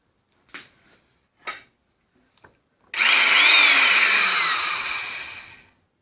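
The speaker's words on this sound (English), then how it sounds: "You grab the drill and you drill a hole straight through it." A few soft knocks, then an electric drill whirs loudly, boring a hole straight through a hammer part for about three seconds, steady before winding down.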